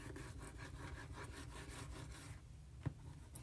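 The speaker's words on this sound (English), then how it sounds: "I'm gonna go ahead and burnish" A tool burnishes paper for a handmade mini album with quick, rhythmic rubbing strokes for about two seconds, then stops, followed by a couple of light taps.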